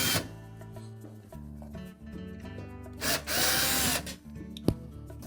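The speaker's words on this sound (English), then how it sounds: "we'll remove the 4 screws that secure that access panel" A power drill backs out screws from the rear access panel of an LG washing machine, whirring in several bursts of varying length with short pauses between, close and loud.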